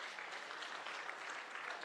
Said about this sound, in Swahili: Simpigie makofi hii committee.